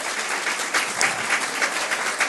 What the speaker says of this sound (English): I think we need better applause here.